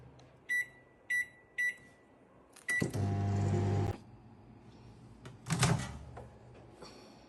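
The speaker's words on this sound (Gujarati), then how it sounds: "અને એને માઇક્રોવેવમાં મૂકીશું" A microwave oven heating fenugreek leaves in a Borosil glass bowl: three short keypad beeps, a sharp door clunk, then a loud, steady running hum for about a second, and a later burst of clatter.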